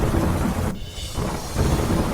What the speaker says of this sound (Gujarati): હિંમતનગરમાં ગાજવીજ સાથે વરસાદ થતા સોસાયટીઓમાં પાણી ભરાયા